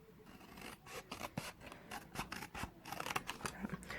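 Scissors snip and rasp through a paper box along its score lines, several close, crisp cuts in an uneven rhythm, quiet and with no talking.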